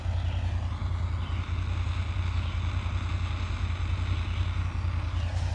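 An MSR Windburner camping stove burns steadily with a loud, constant, close roar that holds without a break from start to finish.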